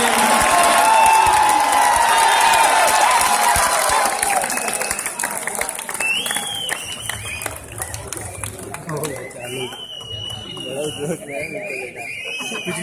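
Loud applause from an audience at a Hindi poetry gathering held at a college festival, strongest for the first few seconds and then fading into a murmuring crowd with scattered sounds and voices.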